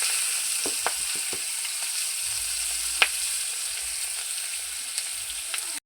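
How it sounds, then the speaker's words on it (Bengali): Cumin and onion fry in hot oil with a loud continuous sizzle close by, broken by scattered pops and crackles and occasional low thumps of stirring. "ওই একের তেলে আমি জিরে দিয়ে দেবো"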